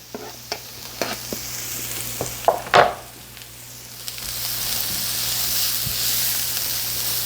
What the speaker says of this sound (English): And you're going to saute the onion until it's soft and translucent.